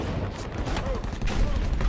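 Battle sounds from the Vietnam War assault on Hill 875: dense, sustained gunfire with heavy thumps of mortar and rocket fire, loud and continuous, with a narrating voice speaking over it.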